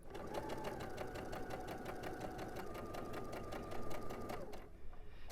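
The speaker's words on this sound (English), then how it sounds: "I'm going to stitch using my 1/4 inch foot" Sewing machine stitching 2.5-inch quilt squares with a quarter-inch foot, a steady rapid mechanical whir with regular needle ticks running nearly five seconds before stopping abruptly, close and fairly quiet.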